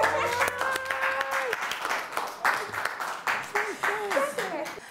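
A game-show audience applauding the winning couple in a cooking competition, loud crisp clapping close by with scattered cheers, while voices talk and call out over it.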